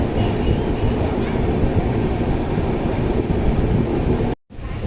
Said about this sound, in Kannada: ಫೈನಲಿ 9 ಗಂಟೆ 20 ನಿಮಿಷಕ್ಕೆ SBCಗೆ ಬಂತು ನೋಡ್ರಿ ಇದು ಟ್ರೈನ್